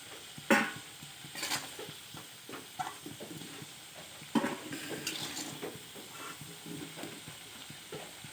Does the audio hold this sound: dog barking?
no